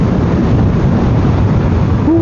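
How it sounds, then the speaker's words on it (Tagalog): Strong wind roars across the microphone of a motorcycle riding along a road in Taiwan, a dense unbroken buffeting rush with no voices over it. "Malakas pa rin ang hangin."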